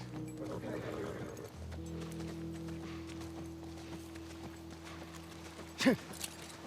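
A horse gallops in The Last of Us, its hooves drumming in a quick clip-clop rhythm under a low steady hum, with a brief louder burst near the end.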